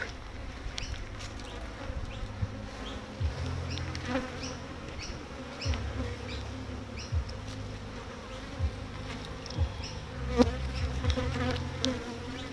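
Honey bees buzzing loudly as a beekeeper shakes them off a hive frame, a dense continuous drone close by with scattered thumps and no speech.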